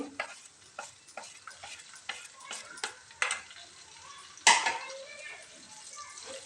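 Salt, black salt, turmeric and red chili powder are stirred in a frying pan for amla pickle, with soft rhythmic scraping strokes and a light sizzle, faint and close, ending on one sharper clink.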